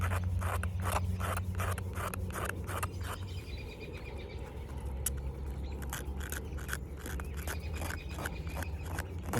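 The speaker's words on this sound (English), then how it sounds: "So we're going to use a striker here. And I'm just going to scrape the edge" A striker scrapes the edge of a card, making a steady series of quick gritty rasping strokes, close and fairly quiet, with a low hum under the scraping.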